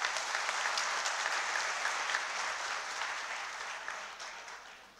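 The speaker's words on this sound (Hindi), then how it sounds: "उसके लिए एक जोरदार ताली दी आपने" An audience applauds loudly and steadily at a stage event, dense clapping that slowly tapers off toward the end.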